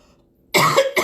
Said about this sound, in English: I did cough in my hand.